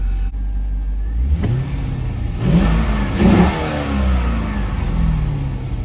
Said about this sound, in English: Let's do a little startup video of it, all right?